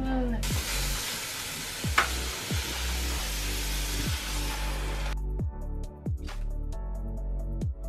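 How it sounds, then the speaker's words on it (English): Tomatoes fry in an Indian tadka for chickpea curry, giving a loud close sizzle that drops to a softer hiss partway through, with repeated spoon scrapes and stirring knocks against the pan. "The next thing we gotta put in the tadka is some tomatoes."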